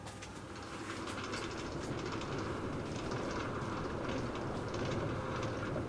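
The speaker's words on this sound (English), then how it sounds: "This is the Brooklyn Bound A Express train." A Brooklyn-bound NYC subway A Express train runs at speed between Canal Street and Chambers Street, a constant loud rumble and rattle of wheels on rails heard from inside the car, with no talking.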